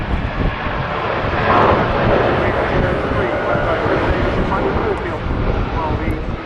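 A Royal New Zealand Air Force Boeing 757-200 at an air show accelerates away after a 360-degree turn with gear down, a broad, loud, steady jet roar mixed with wind buffeting, while a commentator speaks over it.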